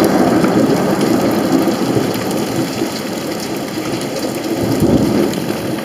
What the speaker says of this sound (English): I don't know if you can see the hail or not, but it's hailing.